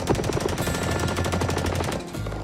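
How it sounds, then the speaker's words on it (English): A massive fireworks display, rapid dense crackling bursts popping in quick succession like gunfire, loud and continuous for a couple of seconds with no talk. "Belinda and Peter put on a massive display of fireworks in honor of Zamir's friend, Tony."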